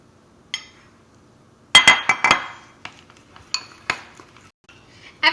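Utensils clink and scrape against a bowl while egg yolks are mixed into melted chocolate chips for a flourless chocolate cake: irregular, sharp clinks, a dense burst early on, then scattered taps, close and loud with quiet gaps between.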